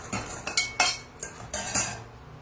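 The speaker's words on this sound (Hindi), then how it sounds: "तो ये कढ़ाई है, इसको मैं हटा देती हूँ।" A metal kadhai of spice-coated makhana clanks and scrapes as it is shifted off the stove, giving several sharp metallic knocks and clinks in an irregular rhythm, close and fairly clear.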